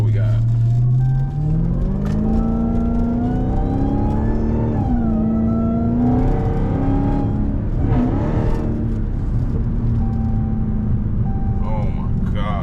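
A car engine revs up and down with a rising, wavering whine over a deep rumble, loud and close, with people talking over it.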